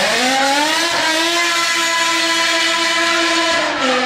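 BMW M S85 V10 engine pulls hard under acceleration, a loud, steady high-pitched howl with harmonics rising and holding across the run, close and continuous with no talk.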